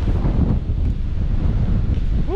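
Strong tropical storm wind roars steadily past a barn in Islamorada, a loud continuous buffeting rush with low gusty rumble throughout.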